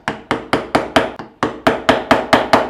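A chisel driven into wood by a mallet while cutting a round mortise-and-tenon joint: eleven sharp, evenly spaced knocks in a steady rhythm with a short pause midway, close and loud, with no talking.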